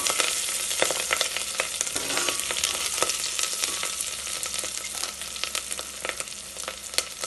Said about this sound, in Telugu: బీన్స్ వేసాము, కొంచెం సిమ్లో పెట్టేసుకోవాలి.